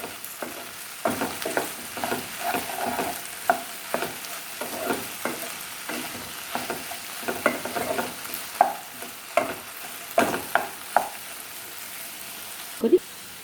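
Okra fry is stirred in a pan over steady sizzling, with a quick run of scraping, knocking spatula strokes, close and clear throughout.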